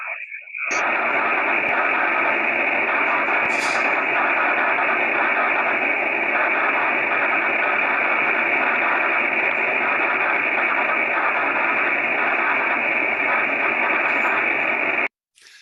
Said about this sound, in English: I'm going to play a little video of an auroral contact, and you'll hear the quality of the Morse code